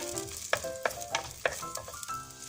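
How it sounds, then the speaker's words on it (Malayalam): Chopped shallots sauté in a pan for cashew theeyal, with a crackling sizzle and a run of distinct spatula scrapes and knocks close by. "4 ചെറിയ ഉള്ളി പൊളിച്ച് അരിഞ്ഞത് അതും ഇട്ട് ചെറുതായി ഒന്ന് വഴറ്റിയെടുക്കാം"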